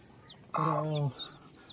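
A single harmonic squawk from an aggressive native village hen brooding over newly hatched chicks, loud and close for about half a second against a quiet background.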